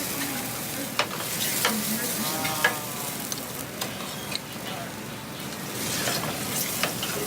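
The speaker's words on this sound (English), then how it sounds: "So we make a butter sauce in the pan to order." Butter sauce with fresh sage sizzling in a pan to order in a restaurant kitchen, a steady frying hiss broken by occasional clicks and scrapes of stirring.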